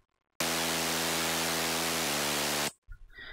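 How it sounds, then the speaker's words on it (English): A sustained, bright synth bass layer for melodic bass music plays loud and buzzy for over two seconds with a pitch shift near the end, then cuts to a brief silence and faint trailing sound. "So the first mid bass sounds like this,"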